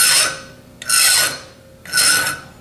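Three forward strokes of a coarse file across metal held in a vise, each a loud rasping scrape separated by short silences, close up.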